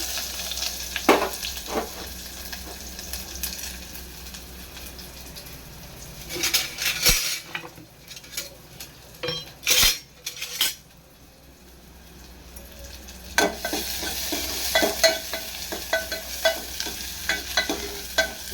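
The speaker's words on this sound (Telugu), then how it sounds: "ఇప్పుడైతే నేనైతే ఆయిల్ ఇటు ఎక్కింది ఉల్లిగడ్డలు అయితే వేసేస్తున్నాను" Sliced onions dropped into hot oil for a Telugu-style spinach tempering, sizzling and frying steadily as they are stirred, with sharper bursts of sizzle and occasional clinks of a spoon against the pan, close and without any talking.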